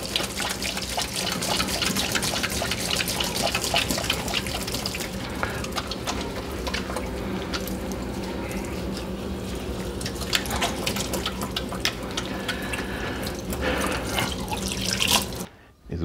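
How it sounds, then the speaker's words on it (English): A kitchen tap runs steadily as hands are washed under it, a continuous close splashing hiss that cuts off abruptly at the end. "Now we're going to wash our hands as we usually do."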